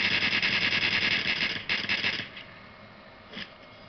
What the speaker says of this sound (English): Now I'm going to go with the M1 carbine, but I've got a box mag on it, so wait until I stop shooting, okay?